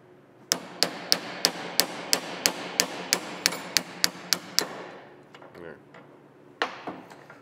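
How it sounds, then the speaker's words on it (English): Old bearing being hammered off a KRX 1000 steering rack held in a vise, about fourteen sharp, evenly spaced metallic hammer blows close by, then a pause, a few light clinks and one last strike. "we can probably smack it off actually in the vise in 2 seconds"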